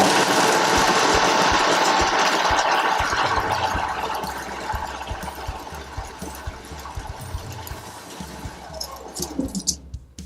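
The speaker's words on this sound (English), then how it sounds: "So the only real noise there is from the drive belts, and a small amount from the motor" A workshop sander switched on, its drive belts and motor giving a steady loud mechanical whir that gradually eases and winds down toward the end.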